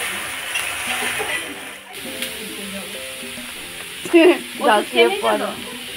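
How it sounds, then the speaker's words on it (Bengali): Fish frying in oil in a wok (kadai), a steady broadband sizzle throughout, with a few louder bursts near the end and a voice talking over it. "দেখো এখনো মাছ ভাজা হচ্ছে"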